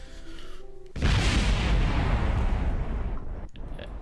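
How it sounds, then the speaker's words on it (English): An explosion in Kerbal Space Program as a craft crashes onto the Mun's surface, a sudden loud boom that swells into a long roaring rumble and slowly fades over a few seconds, with no talk. "Explosion is always a great end to every Kerbal mission."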